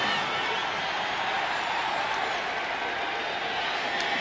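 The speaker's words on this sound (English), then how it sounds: "the Seahawks crowd, well known for their noise level," A roaring Seattle Seahawks stadium crowd at a 1989 NFL game against the Phoenix Cardinals fills the air with a dense, unbroken wall of cheering during the opening kickoff, steady and loud throughout.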